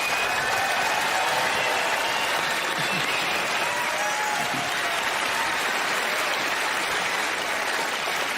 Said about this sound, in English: please give a warm round of applause for Mr. Terry Fader and Winston